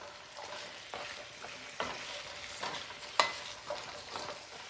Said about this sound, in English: Now we're adding in our turnips and our carrots. And all we want to do is get these coated.